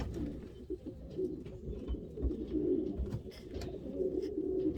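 Pigeons cooing steadily in a breeding loft, a soft low rolling murmur from several birds close by, continuous throughout with occasional faint chirps above.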